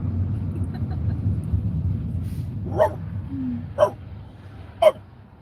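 A dog gives three short, sharp barks roughly a second apart, moderately close, over low rumbling background noise.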